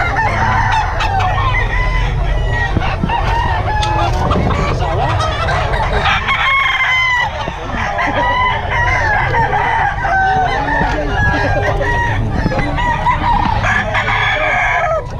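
Roosters crow repeatedly over a dense, constant background of clucking chickens, loud and busy throughout like a crowded poultry yard.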